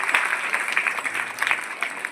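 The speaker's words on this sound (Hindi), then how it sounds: "बेटी के लिए जोरदार तालियां" An audience at a school cultural event at a government senior secondary school in Karsola claps for a student honoured for her exam ranking, with brisk, dense applause throughout and no talk over it.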